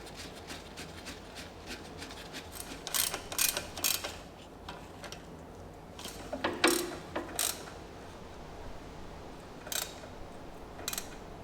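A ratchet tightens the bracket screws on a car wheel knuckle during a pressed wheel bearing replacement on an Audi Q7, VW Touareg or Porsche Cayenne, giving scattered bursts of quick clicking near the mic with pauses between turns.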